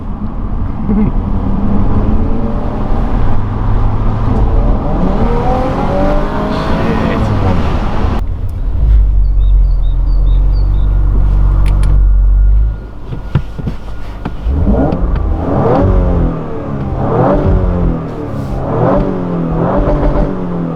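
A 2018 Audi RS4 with a 2.9 litre V6 petrol engine driving, its engine note rising and falling through gears, loud and close, then settling into a steady drone with someone talking over it.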